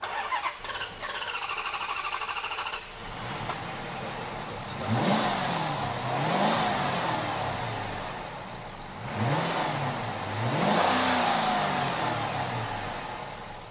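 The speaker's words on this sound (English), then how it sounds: "Motor sounds good though, at least." A Dodge Charger V8 engine revs up twice in sharp bursts, each climbing and dropping in pitch, after a steady idle with a whine at the start.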